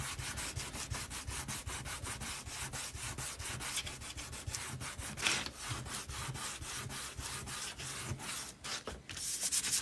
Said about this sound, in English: Sand the foam mix down.